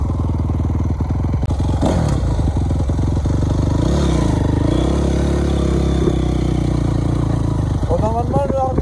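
Honda CRF 250 R dirt bike engine idling after a cold start, a loud, close, steady single-cylinder putter with slight rev changes and a brief blip near the end, with someone talking over it.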